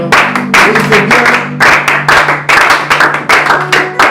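A church congregation claps in rhythmic bursts during a French-language worship service, loud and close, with a steady beat of hand claps separated by short pauses.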